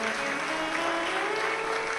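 Loud, dense applause from an audience at a Shiva Mahapuran religious discourse, continuous clapping filling the space without a break.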